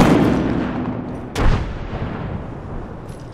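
A frag grenade explosion booms mid-clip over a dense wash of gunfire in the Apex Legends video game, with the blast standing out loud and near against the steady combat noise.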